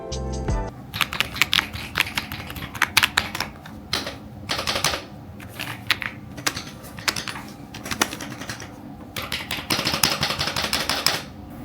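Fast typing on a Noir Timeless 1800 mechanical keyboard, a dense, close stream of crisp key clicks in uneven bursts with brief pauses, heard alone without talk.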